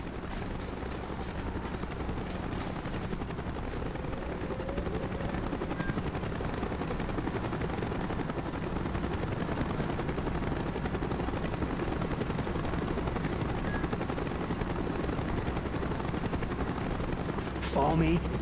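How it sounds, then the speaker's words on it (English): A helicopter in the video game Call of Duty Black Ops, heard as a dense, continuous rotor roar that stays loud throughout, mixed with gunfire-like bursts and battle noise and some shouted voices. "Chopper's inbound! Move it!"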